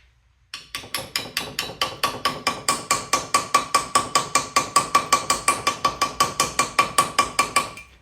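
Steady rhythmic hammer taps, about four per second, ring out sharp and metallic as a valve seal is driven into place on a 5.7 Hemi engine head, with a bright clink on each strike and no voices.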